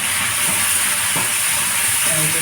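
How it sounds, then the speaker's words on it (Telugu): Tomatoes fry in a pan for samay upma, giving a steady bright sizzle and hiss with a few faint scrapes and clinks of stirring. "టొమాటోస్ కూడా ఫ్రై అయిపోయింది."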